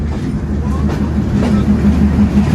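The Kapotaksha Express rumbles steadily into Kotchandpur railway station in Bangladesh, a loud continuous roll with rhythmic wheel clatter close by.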